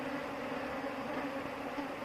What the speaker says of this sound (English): Beekeeping. A queen bee is isolated to create a new colony.